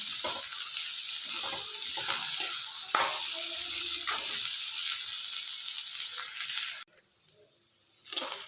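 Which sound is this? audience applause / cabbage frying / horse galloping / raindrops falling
cabbage frying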